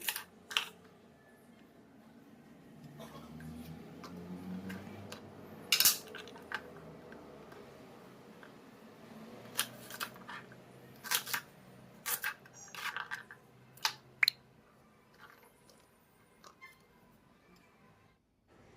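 A knife slices okra (lady's finger) lengthwise on a cutting surface. Sharp, irregular taps and clicks come close up over a quiet background, scattered in short bursts.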